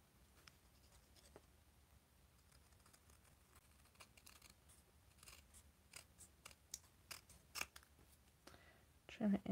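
Scissors snip through cardstock while a handmade birthday card is trimmed at an angle during a Stampin' Up ink blending session, a series of quiet crisp cuts that grow louder toward the end, with faint talk in the background.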